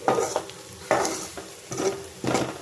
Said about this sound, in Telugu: మంచిగా ఆలు ఉల్లిగడ్డ మంచిగా ఫ్రై అయ్యేటట్టు ఇలా వేసుకుంటున్నాము